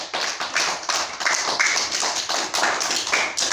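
A yoga class bursts into group applause, many hands clapping together in brisk, steady rounds that stay loud and continuous throughout, with no talking over it.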